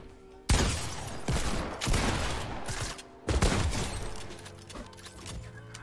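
Several sharp bursts of gunfire in the video game Fortnite, heard near Tilted, each loud crack followed by ringing decay, the last volleys softer.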